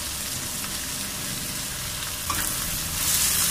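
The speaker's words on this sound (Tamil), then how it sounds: "இப்போ இதை நல்லா எண்ணெயில் வதங்கட்டும்" Onions and curry leaves saute in hot oil, giving a steady close sizzle with light stirring scrapes that grows a bit louder toward the end.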